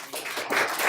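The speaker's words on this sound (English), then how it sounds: "A round of applause, please." Conference audience at a GDG DevFest tech talk breaks into applause, a dense wash of many hands clapping that holds steady and slightly swells over about a second, fairly close and with no talk over it.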